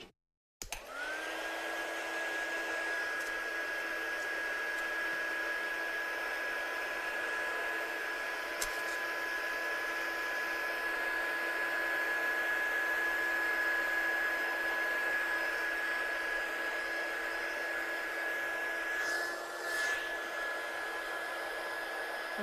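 A hair dryer used to dry watercolour paint on a stamped card runs steadily and loudly for about twenty seconds, a constant whooshing blow with a high whine, starting abruptly and staying even throughout.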